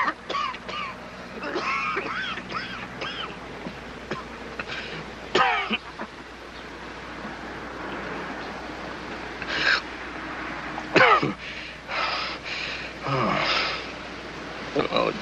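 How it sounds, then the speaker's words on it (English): A man coughs and wheezes in a 1941 film, with harsh bursts of coughing and strained breaths scattered through the scene, mixed with spoken dialogue. "He's been keeping everybody awake with his coughing and wheezing."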